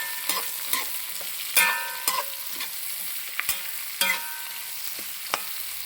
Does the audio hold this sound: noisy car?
no